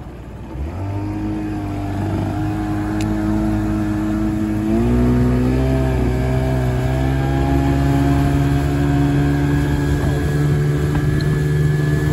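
Engine of a cheap secondhand four-wheeler revving loudly up close, a steady idle stepping up in pitch as the throttle opens and then holding a strong, sustained drone.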